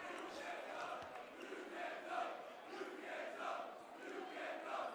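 Bellarmine basketball crowd jeering a player in an arena, a distant rolling swell of many voices rising and falling in waves, faint and continuous.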